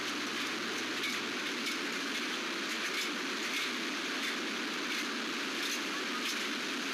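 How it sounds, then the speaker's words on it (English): Heavy rain from Tropical Storm Isaias pours down steadily with a windy roar near a beach, a dense, unbroken hiss that stays loud throughout, with no voices. "It's already raining down here."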